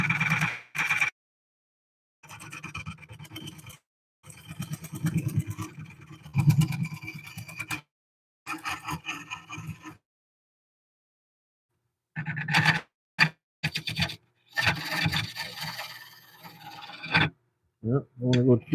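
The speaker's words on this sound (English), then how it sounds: "Okay, I'm trying to go back in there with my gouge." A gouge cutting a cork oak bowl spinning on a wood lathe gives rough rasping, scraping passes in intermittent bursts separated by silent pauses, close and fairly quiet.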